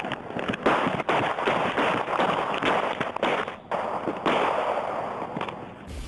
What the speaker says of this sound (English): Then, off camera, you hear a dozen shots.